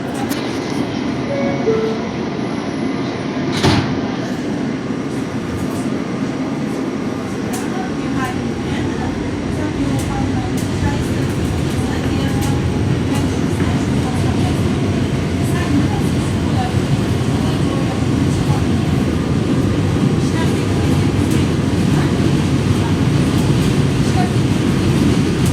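Rumble and rattle of a New York subway F local train bound for Coney Island–Stillwell Avenue, loud and continuous from inside the car, with a brief sharp clank early on.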